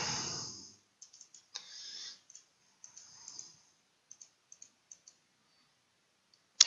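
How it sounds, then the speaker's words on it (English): A computer mouse gives sparse, faint, sharp clicks in short irregular bursts on a quiet desk, with a louder click at the very end and some soft rustle early on. "I'm going to click on these."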